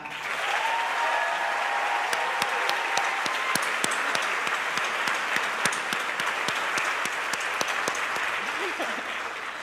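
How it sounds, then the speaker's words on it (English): Sustained applause from an audience at a 2021 dance recital, honoring departing senior dancers, steady and dense throughout with a few sharper claps standing out. "we want to give them a round of applause"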